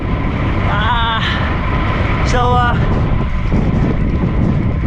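Heavy wind buffets the microphone during Ironman Philippines 2022 with a constant roaring rush, while a voice briefly speaks beneath it.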